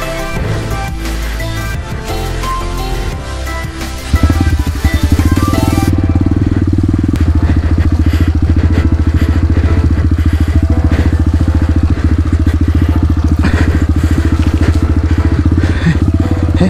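A motorcycle engine revs up, then drones loudly and steadily, close by, as the bike rides along in second gear.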